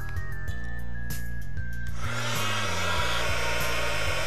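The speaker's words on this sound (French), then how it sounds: "Vous pouvez alors faire chauffer le motif réalisé grâce au heat gun." A heat gun melting embossing powder, a steady, close whooshing blower drone that runs continuously, brightening and growing airier about halfway through as it is moved nearer the work.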